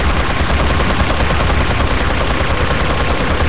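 Continuous rapid automatic gunfire in Resident Evil 4 fills the whole stretch, loud and dense with overlapping shots and no pauses.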